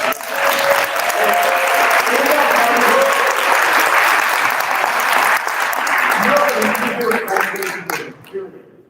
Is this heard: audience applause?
yes